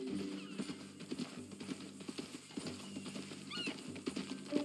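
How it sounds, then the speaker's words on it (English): Horse hooves clip-clop at a steady walking rhythm in Red Dead Redemption 2, fairly quiet and close, with a faint whinny partway through and no talk over it. "That new horse?"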